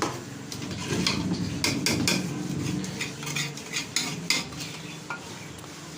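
A spoon scrapes and clinks against a pot while mutton and spinach curry with dried fenugreek and garam masala is stirred over a sizzle, with steady, close, repeated stirring strokes.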